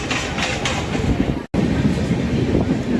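A train running on rails during a journey toward the Konkan, a steady loud rumble with clattering wheel noise throughout, briefly cut off in the middle.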